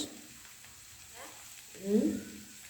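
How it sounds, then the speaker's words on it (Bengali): Paneer chilli ingredients fry in a pan, a soft sizzle under quiet stirring, with a louder burst of hissing toward the end while a voice talks faintly. "এগুলো ফ্রাই হচ্ছে সব"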